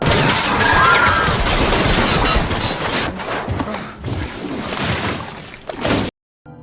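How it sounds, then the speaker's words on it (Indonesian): Police gunfire in a film scene, a loud dense fusillade of rapid shots and bursts that rattles on for several seconds, then thins to scattered shots before cutting off abruptly. "para polisi menembak semua orang termasuk anak-anak"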